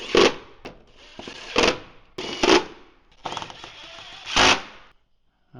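A hand ratchet drives in the bolts holding the top of the radiator shutter on a totaled Ford Edge ST Line, giving several close, loud bursts of rapid clicking separated by short pauses, with no talking.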